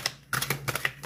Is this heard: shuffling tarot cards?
yes